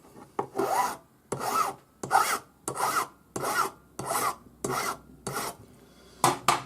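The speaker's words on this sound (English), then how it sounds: "the one end will file flat" A file works a 1 mm thick, 2.5 mm wide sterling silver strip flat, producing about ten even, rasping strokes, each separated by a short pause, close and clear with nothing else heard.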